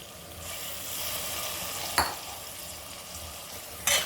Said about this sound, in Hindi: इस तुरई को भी हम भून लेते हैं।